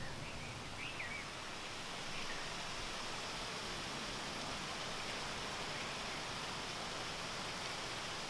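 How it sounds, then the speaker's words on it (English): A small waterfall in a Japanese garden gives a steady, soft broadband rush of falling water, continuous and fairly distant, with a faint bird chirp near the start. "It's a nice little Japanese garden over here with a waterfall"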